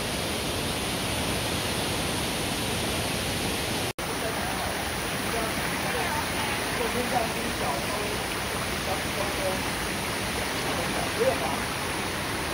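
A river rushes loudly and continuously close by near Fairy Waterfall in Taiping, Taiwan, a dense, steady roar of flowing water that fills the whole stretch, broken only by one instant dropout.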